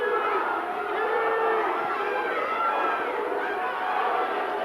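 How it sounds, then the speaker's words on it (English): A crowd chants and cheers at a boys' city conference swim meet finals, a dense steady roar from a large indoor crowd that holds at an even loudness throughout. "And so we'll hear the chant from the crowd to pace that."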